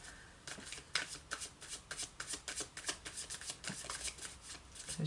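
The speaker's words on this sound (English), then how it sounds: "I can barely hold on to the cards." Tarot cards are shuffled by hand in quick, uneven riffling bursts of crisp papery flicks and slaps that run continuously for several seconds, close and fairly quiet.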